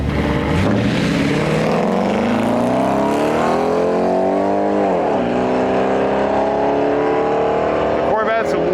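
A naturally aspirated 4.5 liter V8 Porsche S model roars at a drag strip, its engine note rising steadily through a long pull, then dropping sharply at a shift before climbing again. A commentator talks over it.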